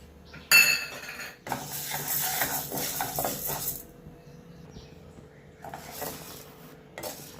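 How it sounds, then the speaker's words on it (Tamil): One cup of chana dal dry-roasted in a hot kadai for idli milagai podi: a sharp metallic clink, then several seconds of rattling and scraping as the lentils are stirred, fading to sparse scrapes. "இப்போ ஒரு கப்பு கடலைப்பருப்பு நல்லா சிவக்க வறுக்கணும்."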